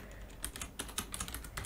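Quick, uneven keystrokes on a computer keyboard, close and moderately loud, clicking in a steady burst while a joystick control is set up for a Raspberry Pi robot project.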